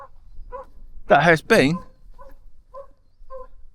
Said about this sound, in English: Now you probably heard him just barking.